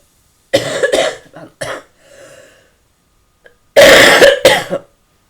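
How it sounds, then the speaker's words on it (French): Several harsh coughs in two bursts separated by a pause, close and loud, with a quieter breathy sound in between. "mais je tousse encore"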